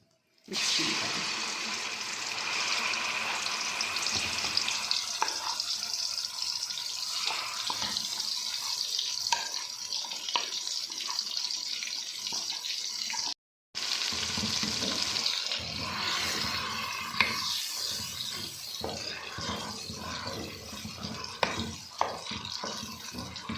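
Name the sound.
chana dal mixture cooking in ghee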